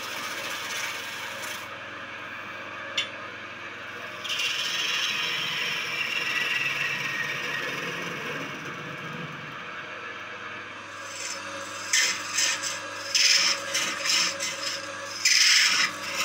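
A woodworking machine with a 2-kilowatt motor works oak, running steadily with a constant motor hum and rasping, grinding texture, followed by several sharper clattering bursts toward the end.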